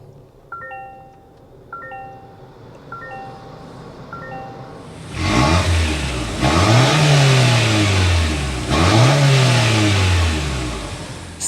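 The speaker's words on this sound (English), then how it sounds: "This is the turbocharged 4-cylinder. We need to go inside, start it up, so you can hear that exhaust note." A 2024 Toyota Grand Highlander's turbocharged 4-cylinder starts after a few soft chimes, then revs up loudly twice, the exhaust note rising and falling in two clear sweeps before settling back to a steady idle.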